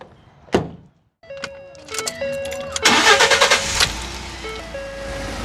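A 2011 Ford F150 with a 3.5L EcoBoost twin-turbo engine fires up after a whir of the starter, then settles into a steady idle, with a few clunks and whines around it and no talk.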